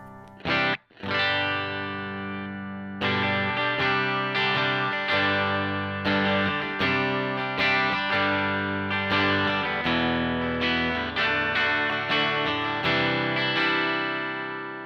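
Electric guitar on the bridge pickup through a Marshall JTM1 50th Anniversary head set clean, playing a run of chords and ringing notes with steady rhythmic strums, loud and close for about fifteen seconds.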